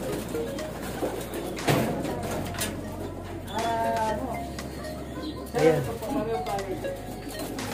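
Racing pigeons coo softly and repeatedly indoors in a loft, their low burbling calls overlapping while a person speaks briefly over the background rustle.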